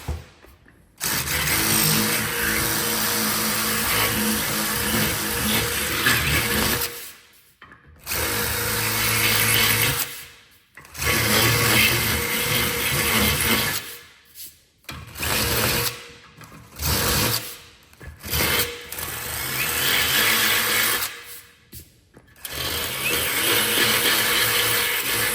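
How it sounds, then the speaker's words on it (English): A power drill whines loudly in several long bursts, pausing between runs, with a high grinding buzz as it bores a hole through a metal motorcycle fender. "I will drill out this hole quick though."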